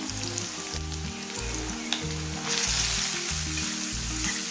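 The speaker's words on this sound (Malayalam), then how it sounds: "ചെറിയ ഉള്ളിയും കറിവേപ്പിലയും ചേർക്കാം." Shallots and curry leaves fry in hot oil for a Kerala-style curry, giving a loud, steady sizzle that runs unbroken and close by, with no one talking.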